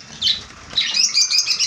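Pet pineapple conures in a bird shop flap their wings in quick bursts, close by, with brief squawks mixed in and no talk.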